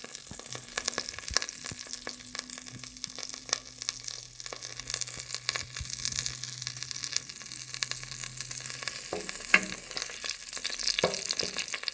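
Thirty grams of butter melting in a pan for carrot cream soup gives a steady, close sizzle and soft frying crackle with a few faint clinks of utensils throughout.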